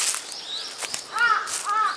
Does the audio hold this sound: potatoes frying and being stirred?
no